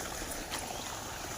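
Soft, steady broadband rush of flowing water outdoors near mango trees, faint and continuous with a brief brighter splash midway, no voices.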